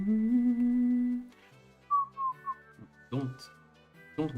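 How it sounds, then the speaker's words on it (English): A person whistles a short pitched tune, first a sustained low note then quick higher notes, close up, followed by talking. "Don't whistle."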